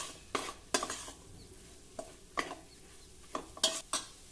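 A pan of vegetables with spice powder is stirred in a series of short scraping strokes, spaced irregularly over a faint sizzle, close and fairly quiet, with no talking.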